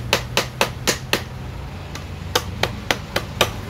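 Glass wool packing is tamped with a wooden stick into a Termignoni exhaust silencer for a FORZA300 motorcycle: a dozen crisp close knocks, evenly spaced then briefly pausing, over a low steady hum.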